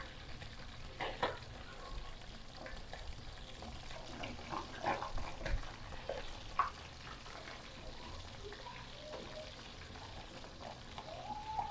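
Fish frying in a pan of hot, splattering oil during home cooking, with a steady low crackle and sizzle and scattered sharper pops rising now and then, close and fairly quiet throughout.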